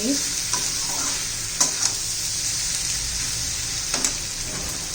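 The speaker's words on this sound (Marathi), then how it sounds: "आता व्यवस्थित मिक्स करूया" Raw banana dry vegetable being stirred in a pan over a steady frying sizzle, with a few distinct spatula scrapes and knocks spaced through the clip, close and clear, with no talking.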